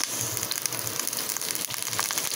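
Garlic and onion frying in a pan for a home-cooked vegetable dish, a continuous close hiss of sizzling oil with faint crackles throughout, alone without speech.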